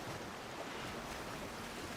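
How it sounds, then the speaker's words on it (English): Rushing water from the video game Death Stranding 2, a dense, steady broadband roar of fast-moving current like surf, loud and continuous throughout with no talking. "The thing about fast-moving water in Death Stranding is you have to move against it,"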